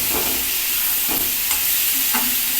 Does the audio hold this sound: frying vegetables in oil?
yes